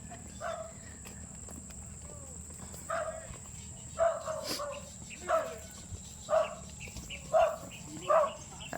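Dogs bark repeatedly in the middle distance, a regular series of barks growing steadier, over outdoor ambience with a faint high steady tone.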